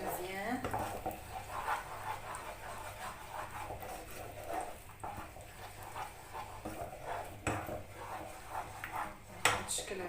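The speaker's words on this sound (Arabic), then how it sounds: "من بعد ما كنبقاو نحركو حتى كتدخل فيه الزبده مزيان" Spoon scraping and clattering in a pan while a caramel cheesecake mixture with melted butter is stirred, with repeated metallic knocks and a few sharper clinks, close and moderately quiet throughout.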